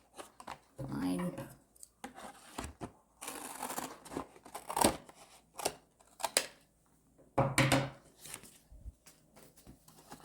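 Scissors snipping paper for a handmade single-spine art journal, several short crisp cuts in uneven bursts, close by, with a person muttering between them.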